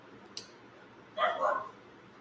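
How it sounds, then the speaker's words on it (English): A single short dog bark or yip, fairly close, rising out of a quiet room with a faint tick just before it. "sorry about my dog"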